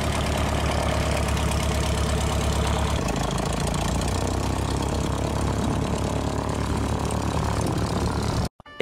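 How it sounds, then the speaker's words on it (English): A light airplane with a modified induction system taxis past, its propeller engine droning steadily and fairly loud, rising slightly as it passes, then cutting off abruptly near the end. "certainly here in the next shot as the airplane taxis by"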